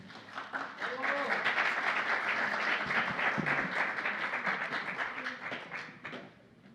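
An audience at a criminal justice law seminar in Mexico City breaks into sustained applause, dense clapping that swells quickly, holds for several seconds, then tapers off.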